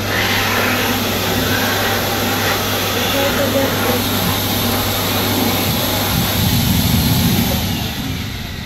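An airport restroom hand dryer runs as a loud, steady, close blower roar with airy hiss. It continues throughout, swelling briefly near the end, while people talk faintly nearby.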